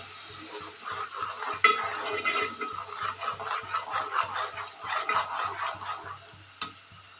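Misal ingredients are stirred and sautéed in a pan with a regular rhythmic scraping, a soft sizzle running underneath, and a couple of sharper knocks against the pan.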